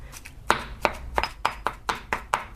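Shallots, garlic and salted egg pounded in a mortar for a chili paste, about a dozen sharp, steady thuds in a quick regular rhythm, close and alone.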